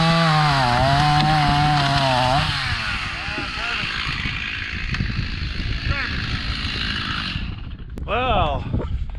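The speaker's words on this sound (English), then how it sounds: "We're just going to cut this thing at 16 foot" A chainsaw revs and bites into a log being cut at 16 feet for lumber, running loud and close for several seconds with a steady rasping roar before easing off near the end.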